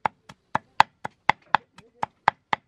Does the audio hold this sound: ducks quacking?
no